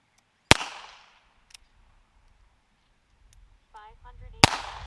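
Two sharp, loud cracks about four seconds apart from an unsuppressed rimfire gun firing CCI Standard rounds, each with a short decaying tail, separated by quiet handling noises and a brief electronic chirp just before the second shot.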